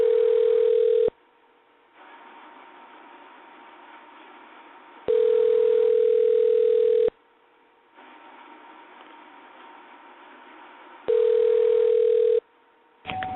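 A telephone line tone sounds in long steady bursts, roughly two seconds on and several seconds off, repeating as a call to a radio show connects, with quiet line hiss between bursts.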